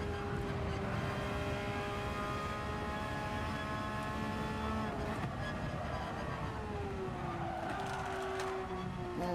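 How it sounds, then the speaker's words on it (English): Racing car engine in Gran Turismo 7 held at high revs and bouncing off the rev limiter, a loud continuous harmonic drone with pitch shifts as gears and speed change. "And we've hit the rev limiter on the line."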